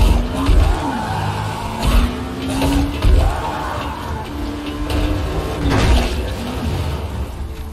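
In the video game Dying Light: The Following, a car engine hums and rises in pitch as it drives, broken by bumps and thuds along the way.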